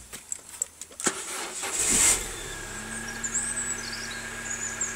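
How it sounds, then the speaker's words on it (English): A car engine cranks over and catches after a few clicks and rattles, then settles into a smooth, steady idle with a faint high whine, close up and with no talking. "So as you can hear, the engine sounds absolutely perfect"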